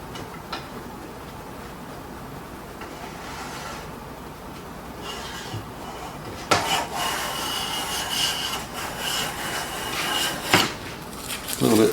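Hand plane taking light shavings from a wood board, faint rubbing strokes at first that turn into several louder rasping passes in the second half.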